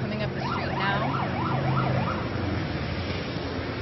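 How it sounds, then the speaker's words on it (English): Wailing emergency vehicle sirens sweep up and down over steady street noise as a police motorcycle convoy escorts an Ebola patient from Offutt Air Force Base to Nebraska Medical Center in Omaha, loud and close throughout. "Sirens are going off."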